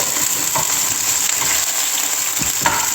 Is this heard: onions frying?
yes